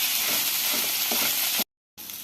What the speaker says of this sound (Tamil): இப்போ புதினா சேர்த்து வதக்கலாம்.